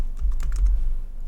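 A few soft key presses on a computer keyboard, a Ctrl+A shortcut while working in Photoshop, heard as close, muffled clicks over a low background rumble.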